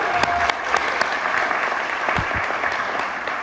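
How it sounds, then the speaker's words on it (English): Sustained audience applause fills a chamber of commerce breakfast, a dense steady wash of many hands clapping at close range with a few louder individual claps standing out. "let's give Hannah a round of applause"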